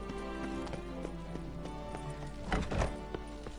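Roach the horse galloping in The Witcher 3: Blood and Wine, rhythmic clip-clopping hoofbeats over a steady game background, heaviest near the end.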